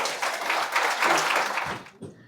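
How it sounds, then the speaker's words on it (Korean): Audience applause at a Korean-language book concert, a dense wash of clapping from a seated crowd that swells then fades out near the end, followed by a brief moment of near quiet. "큰 박수 한번 부탁드리겠습니다."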